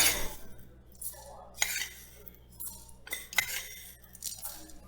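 Metal spoons clink against bowls and jars while cumin and coriander seeds are measured out, several light, sharp taps scattered across a quiet kitchen, close by and fairly soft.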